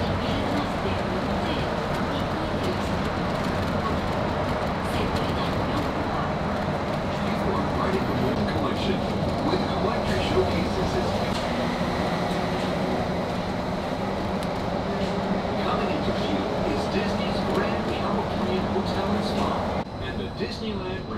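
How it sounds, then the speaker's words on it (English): Disneyland monorail ride heard from inside the car, a steady rumbling rail drone with rolling wheel noise holding loud and even throughout, while people talk over it. "we're gonna get on the monorail and head to Downtown Disney"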